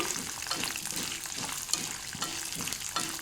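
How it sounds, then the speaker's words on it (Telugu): Chana dal, garlic, chilies and tamarind sizzle and crackle steadily in a hot pan, with occasional stirring scrapes, close and moderately loud throughout. "ఒకసారి వీటన్నిటిని కూడా ఒకసారి బాగా వేయించుకోవాలి"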